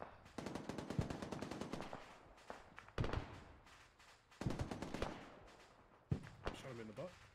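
Gunfire in the Arma 3 video game, heard as loud rapid automatic bursts broken by sharp single shots and short pauses, with a voice talking faintly underneath.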